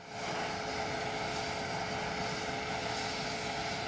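Propeller aircraft drone steady and loud throughout, a continuous engine roar with a faint tonal hum, associated with Air Force One, the presidential transport plane.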